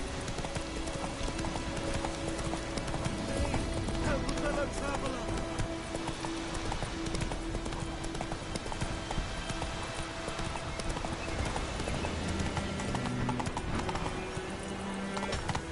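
Roach the horse gallops in a video game, a continuous rhythmic clip-clop of hooves at a steady pace over game music and ambience.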